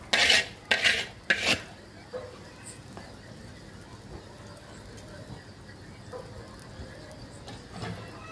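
A spoon clatters against a pan while rui fish curry is stirred, with three sharp metallic knocks at the start and then quiet, faint scraping and simmering with a few small clinks.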